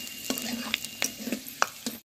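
Panch phoron spices hitting hot oil in a pan while cooking a Bengali rohu fish roe and vegetable dish, a soft steady sizzle broken by several sharp crackles and pops, close and alone.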